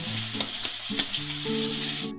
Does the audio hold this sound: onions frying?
yes